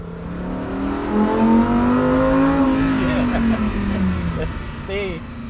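A Lamborghini Huracán STO engine on the move, revving up and holding a loud, rising and falling whine that stays close throughout, with someone talking over it.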